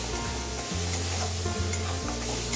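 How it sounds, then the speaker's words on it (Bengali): Kashmiri chili powder and turmeric masala fry in a hot pan, a steady close sizzle with stirring scrapes running through the short stretch, no voices. "এবার মশলাটাকে ভালো করে কষিয়ে নিচ্ছি"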